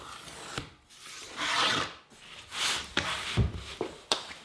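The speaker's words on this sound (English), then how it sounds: "And now trace a line." A pencil rasps along a pattern against a white oak table leg in a few separate strokes, close and dry, with short scraping bursts broken by quick taps and pauses.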